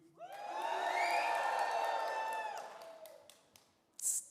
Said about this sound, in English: So after 3, your best cheer.